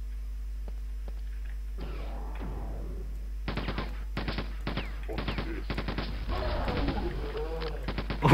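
Rapid weapon gunfire in the video game Quake 2, bursts of quick repeated shots and blasts over a steady electrical hum, growing louder toward the end, with a voice talking between shots.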